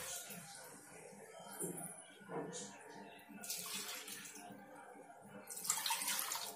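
Running water splashes and rushes intermittently, swelling in bursts as a mixer jar and lid are rinsed out, with soft clatter and a faint voice in the background.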